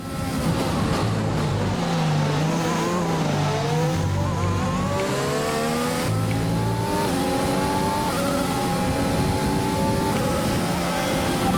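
Race car engines in a Bahrain Grand Prix racing video game rise and fall in pitch through gear changes, loud and continuous, with a brief tire squeal amid the roar.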